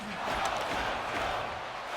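Arena crowd at a Vegas Golden Knights hockey game in NHL 26 chanting in unison during the final minute, a broad steady roar of many voices filling the space at high volume.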